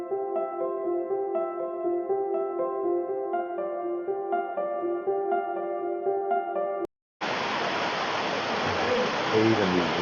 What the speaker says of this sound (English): The trail winds through the gorge and under 19 waterfalls.